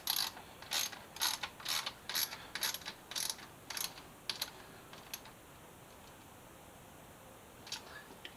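A hand ratchet tightens a replacement part during a Suzuki GSX-S1000F motorcycle rebuild, giving close, crisp bursts of rapid clicking in a steady rhythm for about four seconds, then fading to quiet with a few stray clicks.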